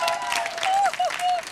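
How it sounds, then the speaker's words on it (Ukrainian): A studio audience at a televised dance show applauds with steady, dense clapping, and a voice cries out over it. "Ваші оплески, Таяна."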